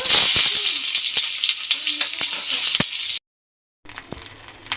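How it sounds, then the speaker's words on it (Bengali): Onion frying in hot mustard oil, with a bright, continuous sizzle and occasional utensil taps, up close, that cuts off abruptly and returns more quietly after a short gap. "গরম তেলের মধ্যে পেঁয়াজটাও ভেজে নেব।"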